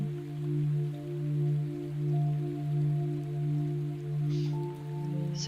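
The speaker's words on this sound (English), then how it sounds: "I picked our thunderstorm music today because it's kind of a rainy day here." Rain from a thunderstorm music recording patters steadily beneath soft, sustained musical tones, even and moderately quiet throughout, with a faint brief rustle near the end.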